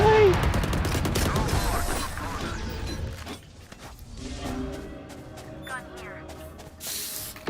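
Rapid automatic gunfire spray in the tactical shooter Valorant, a dense burst at the start giving way to scattered shots, clicks and mechanical game effects with talk over it.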